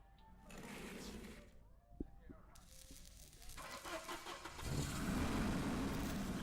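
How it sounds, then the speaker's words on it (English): Truck engine starting up in the point-and-click adventure game The Journey Down, a mid-pitched engine catching and settling into a steady, louder idle rumble after brief game sounds, with speech-like activity nearby. "Let's start up the truck."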